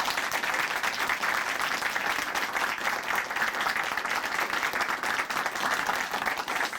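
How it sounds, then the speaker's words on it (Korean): Sustained applause from a church audience fills the whole stretch, dense and steady at moderate loudness, with no voices standing out over the clapping. "우리 방인란 자매님께 감사의 박수"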